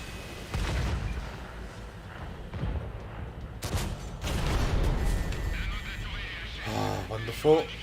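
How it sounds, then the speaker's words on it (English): A tank in World of Tanks takes enemy fire: heavy booming impacts and cannon blasts land amid battle noise, with someone talking throughout and radio-like chatter near the end. "Do we get shot again by whatever's aiming at us? Yes, we do."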